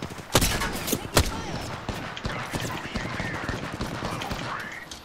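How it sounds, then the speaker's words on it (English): Gunfire in the Apex Legends video game, dense rapid shots with a few louder close bursts early on, layered over game effects through the whole stretch. "They spotted me. I'm taking fire."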